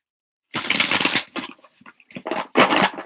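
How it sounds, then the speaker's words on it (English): Tarot cards are shuffled close by in several quick, crisp riffling bursts, a long one followed by shorter ones after a brief silence, with no talking. "let me just one final shuffle"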